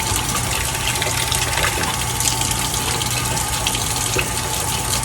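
Tap water runs in a steady, close gush into a kitchen sink as it is warmed for mixing bread dough, a continuous rushing hiss with no voices over it.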